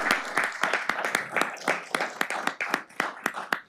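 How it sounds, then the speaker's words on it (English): Small room of attendees at a city council meeting clapping, sparse and uneven individual claps close to the microphone, a handful of hands rather than a large crowd. "Everyone give her a big round of applause."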